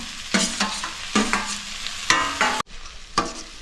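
Shallots, tomato and green chilli sautéing in a pan for a prawn roast, with a steady sizzle and several close scraping stirs of a spoon, loud and without speech.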